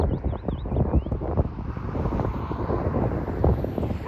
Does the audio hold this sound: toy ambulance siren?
no